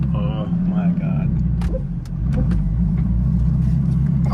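A Ferrari F430 converted to a manual gearbox, running without a diffuser, rumbles loudly while driving, its low engine drone steady and close throughout, with someone talking over it at the start.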